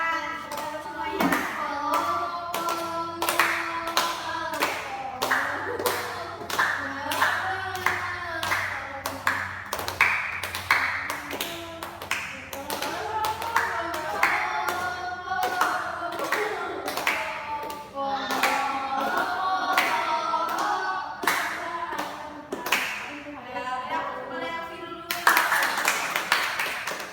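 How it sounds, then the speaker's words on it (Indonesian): Group of people clapping hands together in a group counseling session, a steady stream of sharp claps with voices speaking over them throughout. "Ayo tepuk tangan, semuanya."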